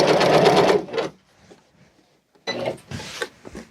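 A sewing machine stitches a curtain cord, its rapid motor whirr running in two loud bursts with a quiet pause between them, close and with no talk.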